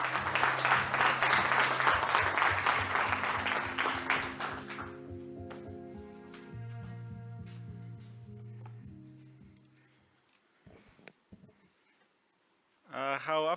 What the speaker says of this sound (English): please give a huge round of applause for Mr.